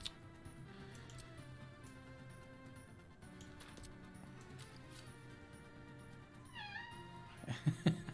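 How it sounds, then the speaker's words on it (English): A cat meows a few times near the end, over steady background music during a Workers & Resources: Soviet Republic game stream, with rising then falling pitched cries and a couple of louder bursts at the close. "I hear you, kitty cat."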